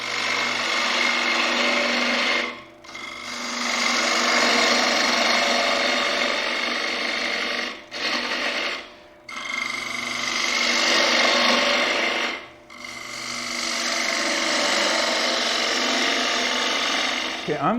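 A bowl on a wood lathe is hollowed with a 3/8 inch spindle gouge, a sustained rasping scrape broken by three or four short pauses as the cuts restart, close and loud, with no talk.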